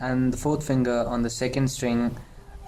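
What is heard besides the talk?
No everyday noise stands out behind the speech.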